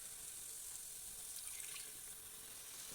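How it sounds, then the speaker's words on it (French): Water pours steadily into a pot of cod and peanut paste while cooking, a soft continuous faint splashing rush with no talking. "donc là, je mets de l'eau."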